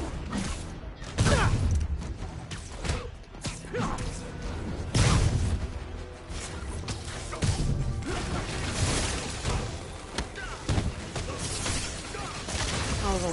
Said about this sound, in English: Good time to use a web bomb.